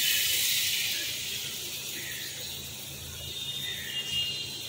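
Water poured into frying masala for an aloo potol bhetki fish kalia produces a loud, broad steam hiss that starts strong and gradually eases, with faint crackling underneath and no talking.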